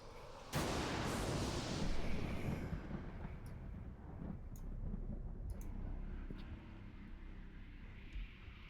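Thunder sound effect booming during a tabletop role-playing game session: a sudden loud crack followed by a long rolling rumble that gradually fades, with faint clicks scattered over it.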